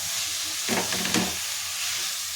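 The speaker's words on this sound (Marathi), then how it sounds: "आता ह्याच्यामध्ये आपण जी भाजी कट करून घेतलेली आहे ती सर्व भाजी टाकून आपल्याला मिक्स करायची आहे" Chopped mustard greens are stirred into a hot pan, a steady sizzle with a burst of scraping and tossing in the middle, close and fairly loud, no talking.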